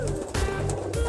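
Pigeons cooing in a loft of pairs kept for sale, soft repeated low coos layered over one another, close and steady with a few brief chirps.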